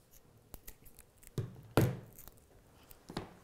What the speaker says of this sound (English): just snip off.